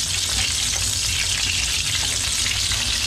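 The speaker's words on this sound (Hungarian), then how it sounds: "Lehet hallani, ahogy ugye a szalonnában van víz, hogy ahogy megy ki belőle a serceg." Bacon-wrapped chicken breast rolls stuffed with jalapeño and cream cheese fry over medium heat in a pan, a loud, steady close-up sizzle and crackle as water cooks out of the bacon, with no talking.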